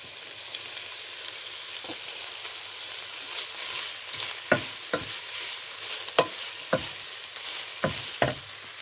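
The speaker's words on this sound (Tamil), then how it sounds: "கொஞ்ச நேரம் இந்த மரக்கறி எல்லாத்தையும் சேர்த்து வதக்குவோம்." Carrot, white cabbage and leeks sauté in a pan with a soft continuous sizzle, broken by several sharp spatula taps and scrapes in the later seconds, close and with no voices.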